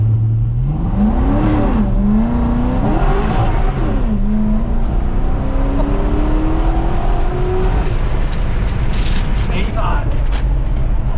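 Supercharged C6 Corvette with an upgraded cam launches hard from a stop, its engine note climbing and dropping through quick gear changes before a long rising pull. Loud and close, with people talking over it.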